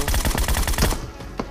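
A rapid burst of PUBG Mobile gunfire, roughly ten quick shots in under a second, then it stops abruptly.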